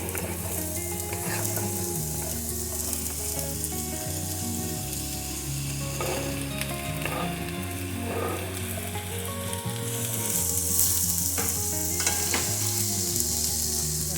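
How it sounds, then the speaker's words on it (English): Zucchini frying in olive oil in a heated pan, a steady close sizzle that continues throughout with occasional scraping and stirring clatter, no talk. "We're going to add our zucchini to our heated pan"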